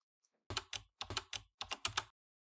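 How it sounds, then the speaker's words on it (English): Crisp keystrokes on a computer keyboard, about ten close taps in three quick bursts separated by brief pauses, near and clear against silence. "You can also hit Control S on your keyboard."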